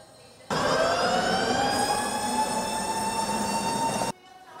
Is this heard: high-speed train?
yes